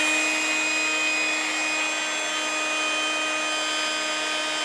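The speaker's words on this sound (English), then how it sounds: "let's attach this to my air pump now, and then see what happens if we just blow a load of air through it" A steady mechanical whine and rushing hiss of an air pump blowing air through a very long gas mask hose runs continuously at an even level, close by and without pause.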